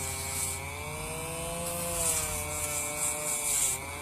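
A Dremel rotary tool grinds against shirt fabric while distressing clothing, giving a steady, close, continuous high-pitched whine with a buzzing abrasive rasp that swells slightly midway, with no talking.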